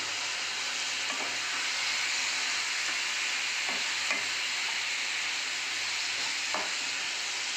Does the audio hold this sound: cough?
no